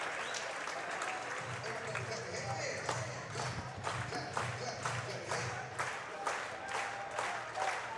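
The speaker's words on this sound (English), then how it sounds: "Slow claps here at Condron Family Ballpark." Baseball stadium crowd slow-clapping at Condron Family Ballpark during a Texas A&M versus Florida game, a steady rhythm of distant claps under an announcer's commentary.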